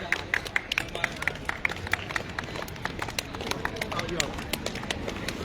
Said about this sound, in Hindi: जोरदार तालियों से स्वागत करिए आप मुख्य अतिथि महोदय का।